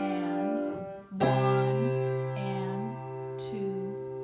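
Sustained piano seventh chord inversions ring out one after another, soft and close, with a few changes in harmony over a held low note.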